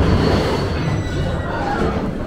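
The Revolution roller coaster train at Six Flags Magic Mountain gives a loud, continuous rumbling roar of wheels on track, steady and close throughout.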